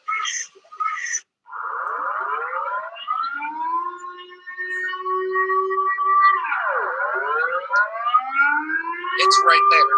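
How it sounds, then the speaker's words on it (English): A civil defense siren wails across Amsterdam, rising and falling in long sweeping tones that build in loudness, with brief voices near the start. "Someone who's never heard that siren before, doesn't even know it's coming."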